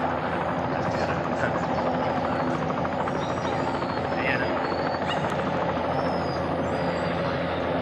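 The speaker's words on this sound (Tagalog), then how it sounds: "Helicopter" A steady mechanical helicopter engine drone with a rotor-like hum, loud and continuous, while people talk faintly underneath.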